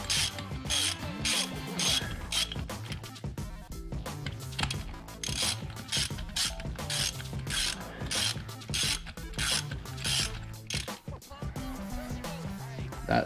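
A ratchet wrench backs a nut off during an airbag-on-coilover suspension install on a CSRT-4, giving close, rapid bursts of clicking in repeated strokes with short pauses between them.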